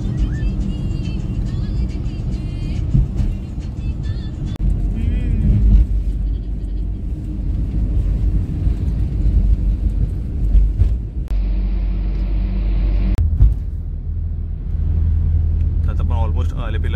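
Road traffic on national highway NH 183 in Kerala, heard from inside a moving car as a steady low engine and road rumble throughout, with voices talking over it.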